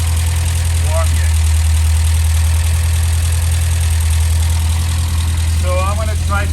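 The 1800ES engine, still cold during a coolant system test, idles with a loud, steady low hum and constant vibration throughout, with brief voice traces over it.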